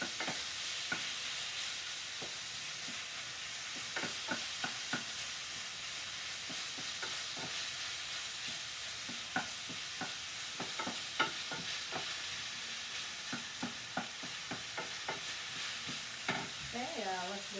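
Kung Pao chicken stir-fries fast in a pan over high heat, a constant hiss of sizzling broken by frequent quick clacks and scrapes of the utensil against the pan.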